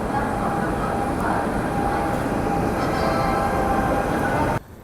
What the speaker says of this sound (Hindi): इस तरफ संपूर्ण क्रांति एक्सप्रेस का अराइवल हो रहा है जो नई दिल्ली से राजेंद्र नगर जाती है